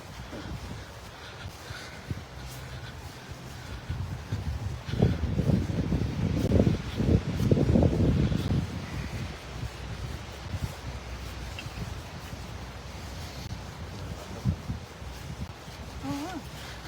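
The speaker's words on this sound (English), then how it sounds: "Still a bit windy." Steady outdoor wind noise buffets the microphone on a walk between Estepona and Marbella, rising into stronger gusts midway before settling back to a low rush.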